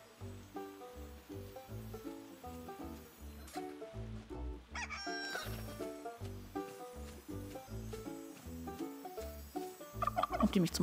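In the Luma Island video game, a hen clucks repeatedly over bouncy background music, with the clucking growing louder and busier toward the end.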